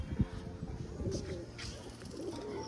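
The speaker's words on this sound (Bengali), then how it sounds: "এগুলো কিন্তু সব ওড়া পায়রা" Several flying pigeons of an old domestic flock cooing in low, soft, rhythmic murmurs close by, overlapping and continuous, with faint background noise.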